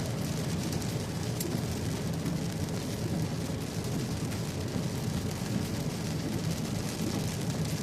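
Steady heavy rain pours throughout a summer thunderstorm, a dense unbroken hiss with no distinct thunderclaps or voices.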